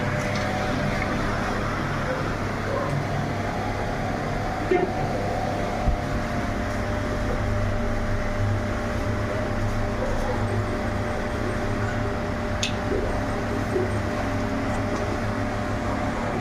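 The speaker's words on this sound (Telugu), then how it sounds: "ఫ్యాన్ ఉంది, ఫ్యాన్ వేద్దాం." A running electric fan gives a steady, even mechanical whir with a low hum that holds unchanged throughout, with faint occasional clicks and bumps over it.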